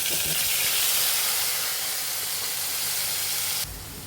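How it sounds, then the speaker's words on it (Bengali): Tomato, chopped onion, chili, turmeric and coriander powder frying in a pan, giving a loud, steady, broadband sizzle close up that drops in level near the end. "এখন মশলাগুলো ভালোভাবে কষিয়ে নিতে হবে"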